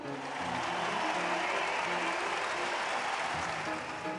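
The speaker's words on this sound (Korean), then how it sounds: "모든 물고기들은 청새치를 환호했고 추앙했다." Crowd cheering and applause as a sound effect in a children's story, a dense, steady roar of clapping and cheers sustained throughout at even loudness, with no speech over it.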